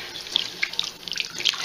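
Tap water running in a sink while doll hair is rinsed under a low, cool stream, a steady close hiss with small splashing bursts, no talk.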